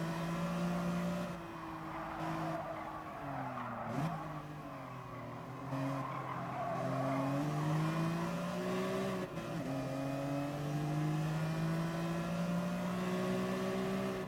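A BMW race car engine lapping Bathurst in Gran Turismo Sport, holding a loud sustained drone that climbs in pitch through the gears, with brief dips at upshifts and braking, steady and close with no talking.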